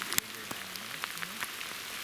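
Rain falls among the redwoods onto a camera, giving light, irregular tapping drops over a soft steady patter, with a few sharper hits close by.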